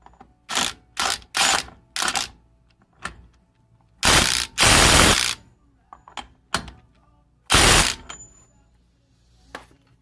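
Ratchet clicking while tightening two 10mm bolts on a cover of a 1991 Acura Integra LS during front suspension work, in loud close bursts of rapid ratcheting with short gaps.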